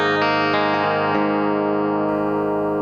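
Gretsch 5230T Jet electric guitar with a Bigsby played on the back pickup, a few bright twangy picked notes leading into a sustained ringing chord that fades slowly, alone and fairly loud.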